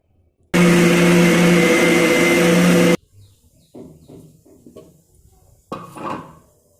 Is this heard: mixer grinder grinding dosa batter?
yes